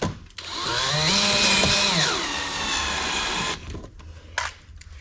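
A cordless drill drives a screw into a car's chin spoiler, one continuous whirring run that rises and holds for about three seconds before stopping, followed by a few faint clicks and handling knocks.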